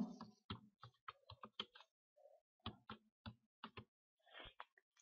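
Keys clatter on a computer keyboard while typing text in InPage software, a quick irregular run of crisp clicks with a brief pause midway, close and clear with no talking.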